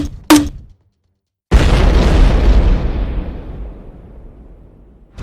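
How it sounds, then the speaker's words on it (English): A grenade launcher blast erupts as a heavy, loud boom that rolls off into a long fading rumble, after a brief sharp click and a moment of silence. "Go get Daddy's grenade launcher, Cassandra."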